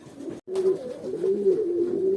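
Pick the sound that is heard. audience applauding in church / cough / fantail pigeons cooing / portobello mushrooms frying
fantail pigeons cooing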